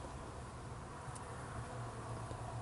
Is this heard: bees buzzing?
yes